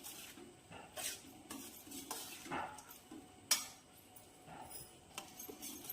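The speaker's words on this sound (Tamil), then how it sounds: "நல்லா கலந்து விடுங்க மசாலாவோட." Quiet stirring of egg curry with masala in a pan, soft spoon scrapes and light clinks against the metal, with a faint sizzle underneath, close up and without talking.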